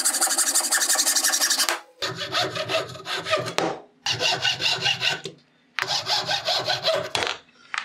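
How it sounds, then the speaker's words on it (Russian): Hand hacksaw for metal cutting a workpiece for a homemade fishing float, in four loud rasping bursts of rapid back-and-forth strokes with short pauses between them, close by with no talk. "Отрезаю, использую ножовку по металлу."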